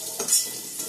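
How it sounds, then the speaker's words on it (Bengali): Brinjal slices frying in a pan give a steady, close hiss and sizzle, with a brief louder burst of spattering early on, then a softer, even crackle. "এই যে বেগুন ভাজা করে নিচ্ছি।"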